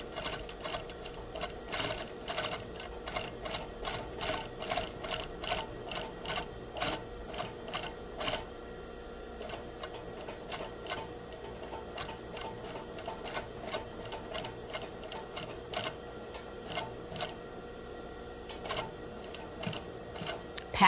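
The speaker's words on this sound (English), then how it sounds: "We'll stitch it in place, carefully following your basting stitches." A sewing machine stitches a zipper into a fly front along basting lines, running as a steady, even rapid mechanical clatter for about twenty seconds, close and moderately loud with no voice.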